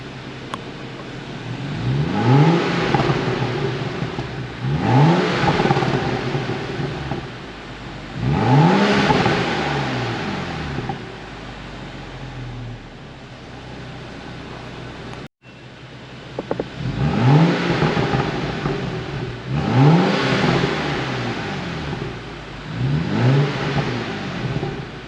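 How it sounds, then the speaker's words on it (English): A bone-stock BMW F30 revving in sport mode while parked: several loud blips rise and fall back to idle, about five revs in a row with a steady idle hum between them. "I'm gonna give you guys a couple of revs in sport mode"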